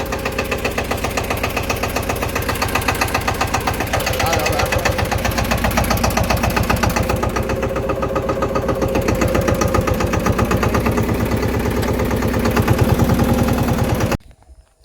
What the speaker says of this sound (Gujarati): મિત્રો આપણે અત્યારે ટ્રેક્ટર તૈયાર કરી લીધું